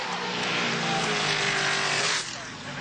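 V8 touring race cars roar past at Bathurst in 1981, a loud, close blast of engine noise that swells and then drops away sharply near the end.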